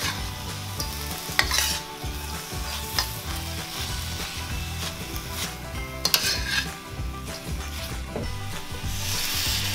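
Chicken stir-fries in a wok with garlic and ginger, a continuous loud sizzle mixed with the scrape and clatter of a utensil stirring against the pan, several sharper knocks along the way.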